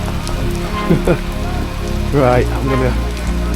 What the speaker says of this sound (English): Oh, this rain.